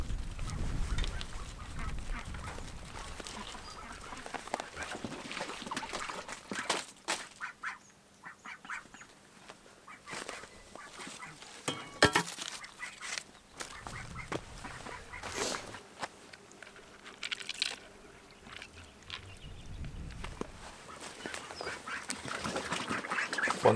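Ducks quack near a chicken and duck coop, the calls coming in repeated bursts across the whole stretch, some close and loud, others further back, with no one speaking.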